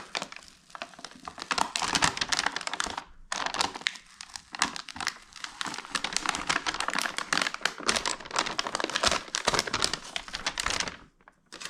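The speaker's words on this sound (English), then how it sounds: "it is ripping off a little bit of the actual adhesive there" Adhesive tears away from the headliner of a 2023 Jeep Wrangler Rubicon 392 in a long series of close crackling, crinkling rips, with a couple of short pauses between pulls.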